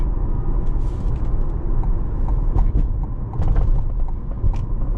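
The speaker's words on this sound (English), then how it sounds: "Oh yeah, I meant to dodge that pothole." A C8 Corvette rolls through Palm Beach streets with a steady low road rumble inside the cabin, a few soft thumps marking the tires striking a pothole.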